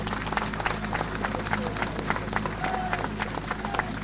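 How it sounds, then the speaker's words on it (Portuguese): Crowd applause at an outdoor Portuguese election street rally in Arouca, steady dense clapping from a large audience, with cheering and some voices mixed in throughout. "Uma salva de palmas para Artur Neves"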